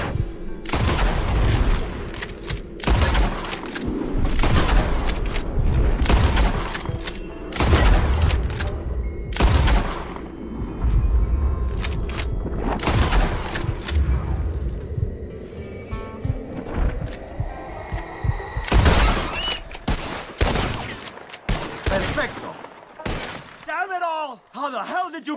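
Gunfire in Red Dead Redemption 2 comes as a rapid series of loud, sharp shots and booming volleys. Short pauses fall between bursts, with a brief voice near the end.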